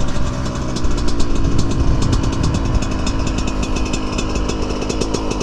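A Yamaha YZ144 dirt bike with a thumb throttle held at full throttle, its two-stroke engine a loud, dense, continuous buzzing roar with rapid pulsing, close by and without talk.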